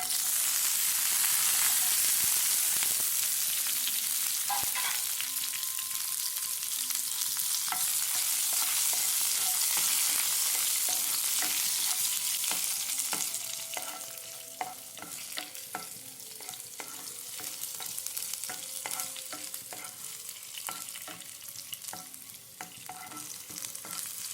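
Shallots, dried red chilies and curry leaves sizzle loudly in hot oil for a rustic Kerala-style tender jackfruit curry. Steady, close frying softens partway through, with scattered scrapes and clinks of a stirring spoon against the pan.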